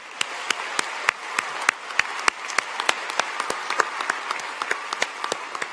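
Applause at a college of design commencement ceremony, a steady patter of many hands clapping throughout with sharp individual claps standing out, moderately loud and continuous with no talking.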